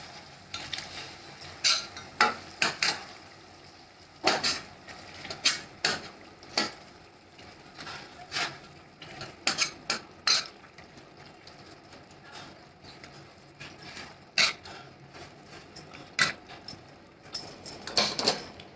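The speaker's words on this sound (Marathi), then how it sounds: "आता ने स्मॅशरने स्मॅश करून घेते टॉमॅटो" A masher pounds tomatoes in a pot, producing a rapid series of sharp metallic taps and wet knocks in uneven bursts, close and fairly loud throughout.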